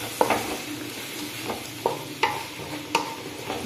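Chicken chilli frying in a pan, a soft continuous sizzle punctuated by a few distinct clinks and scrapes of a spoon stirring at regular intervals, close and unvoiced.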